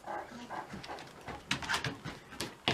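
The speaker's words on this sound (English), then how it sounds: "Who's growling?" A dog growls and whimpers up close in a home with other dogs around, short rough grumbling bursts with some panting and a few sharp noises.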